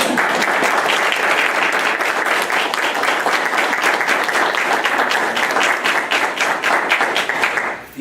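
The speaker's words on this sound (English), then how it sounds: "let's give her a round of applause" School board meeting audience applauds an award recipient, loud continuous clapping from many hands that runs steadily and stops abruptly at the end.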